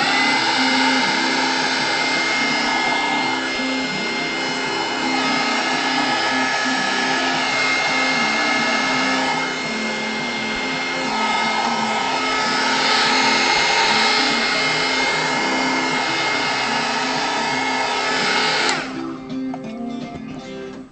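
A heat tool blasts steadily while warming paint on a piece of fanart, a loud continuous whirring hiss that runs for about nineteen seconds before cutting off abruptly, leaving brief rattling handling sounds.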